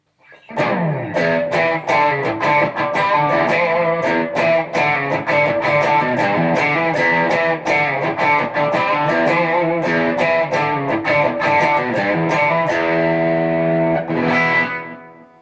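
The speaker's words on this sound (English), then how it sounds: "Here's Dark Matter Distortion with the gain at 9 o'clock, for a more traditional rock type sound." An electric guitar plays through a TC Electronic Dark Matter distortion pedal with the gain at nine o'clock, giving a traditional rock tone. Loud, close strummed chords and picked riffs continue for about fourteen seconds before ringing out.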